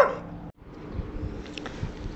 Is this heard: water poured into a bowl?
no